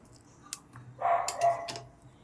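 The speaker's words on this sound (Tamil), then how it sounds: "பக்கத்தில் நாய் கத்துது, அந்த சவுண்டு வருது" A nearby dog lets out a short bark or yelp lasting about a second, faint and a little distant, over a quiet kitchen background.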